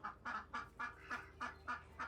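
Runner ducks on an urban farm quack in a steady rhythm of about seven nasal calls spaced evenly over two seconds, fairly faint and somewhat distant, with no voices over them.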